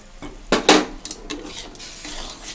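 Stirring food through melted jaggery in a pan for a sweet dish, with clanking of a utensil against the pan in a few sharp bursts over a faint sizzle.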